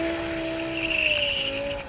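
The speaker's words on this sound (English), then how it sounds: "Oh my God, wheel spin." A BMW E60 M5 V10 launches with wheel spin, a sustained tire squeal over the rising high-pitched engine whine, loud and close for a brief moment.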